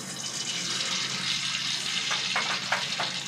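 Oil sizzles and crackles steadily in a pan as cooking begins for potato rice, a constant bright frying hiss with a few sharper pops near the end and no voices.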